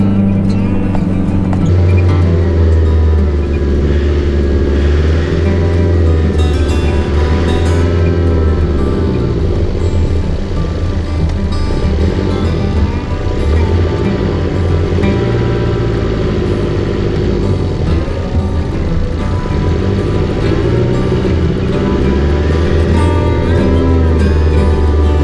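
A 4WD eases down a hill on a High Country bush track in first gear low range under engine braking, its engine a steady close low drone throughout without voices.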